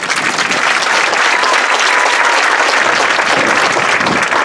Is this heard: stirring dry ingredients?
no